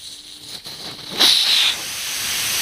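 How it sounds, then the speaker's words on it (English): Air hisses sharply out of an old tire's valve in a short burst of about half a second, fading into a steady low hiss that continues alone without any speech. "You don't want to let all the air out of the tire."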